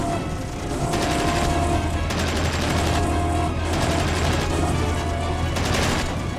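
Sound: gunfire in a video game

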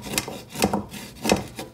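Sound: scraping bottom of pot while cooking Haitian conch stew

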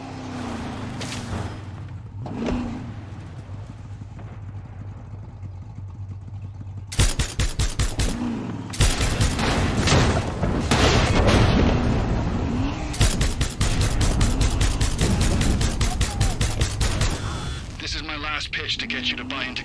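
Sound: gunfire and explosions near fuel tanks in video game Far Cry 6

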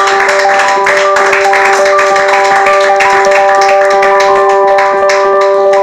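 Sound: audience applauding loudly in church

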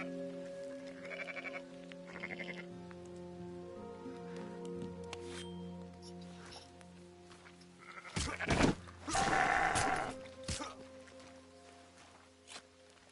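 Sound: rare black sheep bleating

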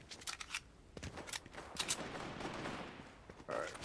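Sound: gunshots in Fortnite video game

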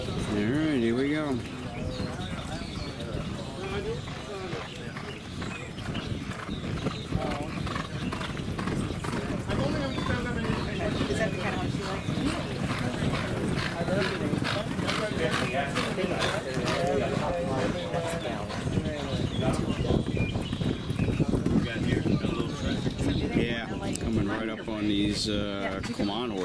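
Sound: horses trotting, hooves clip-clopping during workout

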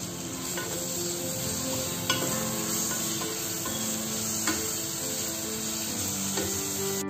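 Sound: ginger garlic paste sizzling while stirred in a pressure cooker

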